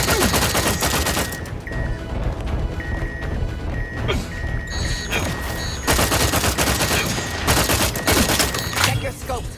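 Loud, dense gunfire from The Outer Worlds 2 video game, with rapid overlapping bursts and shots running nearly nonstop, and brief voice lines mixed in.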